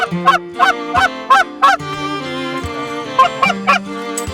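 Geese honking loudly and close during a field goose hunt, a series of repeated rhythmic honks in quick bursts, some overlapping, with no talking.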